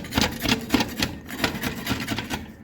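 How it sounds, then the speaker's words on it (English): A tool scrapes around the inside walls of a Lee lead melting pot in steady, rhythmic rasping strokes, close up and fairly loud, with no voices. "Just get in there, scrape the sides as best as you can."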